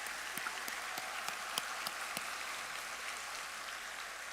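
Assembly audience applauding at a large religious gathering in Daejeon, with a soft, even patter of many hands and occasional louder individual claps. The clapping is distant and continues without speech.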